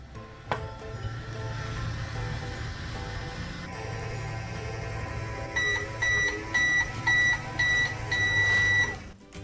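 A toy microwave hums steadily with a low whirring drone, then chimes a series of repeated bright electronic beeps in quick bursts toward the end, close and alone after an initial click.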